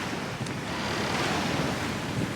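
Steady wind and sea noise aboard a sailboat under way, a continuous broadband rush with waves washing and gusts buffeting the microphone, no voices.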